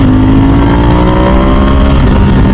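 A Ducati 998S motorcycle engine revs loud and close, a dense, continuous growl whose pitch climbs steadily across the run with no pause.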